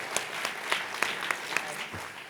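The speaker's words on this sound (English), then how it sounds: "Round of applause for the dancers." Audience at the Asian Curry Awards 2017 gala gives the dancers a short burst of moderately distant clapping, a dense patter with a few sharper individual claps standing out, fading slightly at the end.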